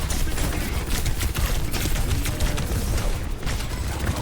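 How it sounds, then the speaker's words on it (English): Dense, continuous gunfire from Reaper in the shooter Overwatch 2, a loud clattering barrage of overlapping shots and impacts that runs throughout without letting up. "that was a Reaper shooting at you"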